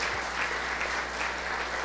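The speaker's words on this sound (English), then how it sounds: "let's have a wonderful round of applause for all the wonderful" An audience at a Yoga Kula 14th anniversary celebration applauds the aspiring yogis, a short, even patter of many hands clapping at moderate volume over a low steady hum.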